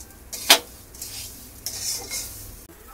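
Tomato and chili being sautéed in a home-kitchen pan: a spoon stirs and scrapes against the metal with a sharp clank early on, over soft sizzling, no voices.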